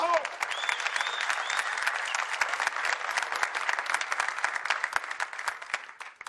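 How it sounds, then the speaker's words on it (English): An audience at the 2025 Saudi Arabia Masters snooker final trophy ceremony applauds in a thick, continuous clatter of many hands that holds steady before tapering off at the very end. "A round of applause, please."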